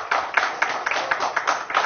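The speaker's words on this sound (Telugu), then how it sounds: "అందరు గట్టిగా క్లాప్స్ ప్లీజ్." An audience at a movie audio launch claps in a quick, even rhythm of distinct hand claps, fairly close and lively, with no other sound standing out.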